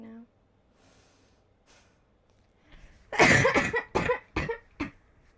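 A person coughs several times in a short burst near the mic in a kitchen, loud harsh hacks following a quiet stretch with faint breaths.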